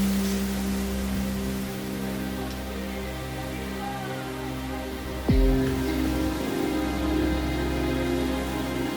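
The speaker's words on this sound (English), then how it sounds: "It started raining really bad." Heavy rain pours steadily during Hurricane Ian, a dense continuous hiss with a low rumble underneath and a brief louder gust-like swell partway through.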